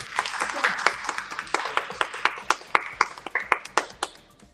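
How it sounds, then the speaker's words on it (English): A small audience at a book conference in Manhattan applauds, with quick hand claps from a few people. The claps are close and fairly sparse and fade out by the end. "give you a round of applause"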